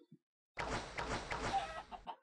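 Chickens cluck in Minecraft, a short burst of several quick, close clucks and squawks in a row after a brief faint blip, with no talking over them.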